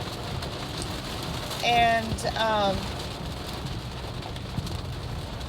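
Rain falling steadily as a constant hiss of drops, with a bird cooing briefly in the middle and a voice speaking one word.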